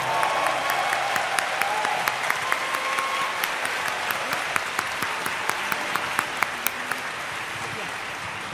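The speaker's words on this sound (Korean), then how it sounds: "소중한 공연 만들어주신 모든 출연진분들께 다시 한번 큰 박수를 부탁드립니다." A large audience at a national Liberation Day ceremony applauds after a performance, dense sustained clapping filling the hall at full volume for several seconds.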